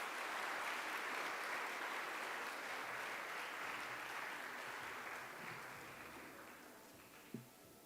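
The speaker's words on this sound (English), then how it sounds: "Let's give our presenters a round of applause" Applause from a conference audience for the presenters at an industry event, a steady wash of many hands that gradually thins and fades toward the end, with a brief bump near the close.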